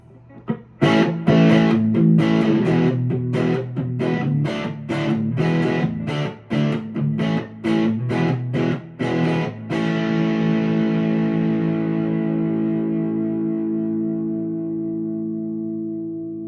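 Distorted PRS SE NF3 electric guitar on the middle pickup position plays a run of chopped, rhythmic chords, then lets a final chord ring out and slowly decay.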